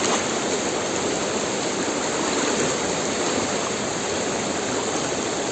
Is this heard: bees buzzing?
no